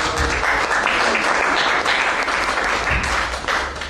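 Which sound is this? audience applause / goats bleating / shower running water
audience applause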